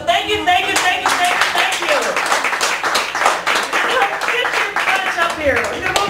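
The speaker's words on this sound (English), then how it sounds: "I'm going to give a big old applause" An open-mic poetry audience at a Chicago cafe gallery claps steadily and fairly close, a dense continuous round of applause filling the whole stretch with some voices mixed in.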